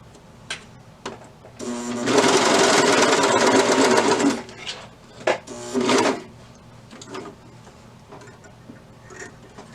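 A sewing machine running a stretch top stitch along a seam of stretch tights, in one sustained close whir of about two and a half seconds, then two shorter bursts, with small clicks and handling noise in the pauses.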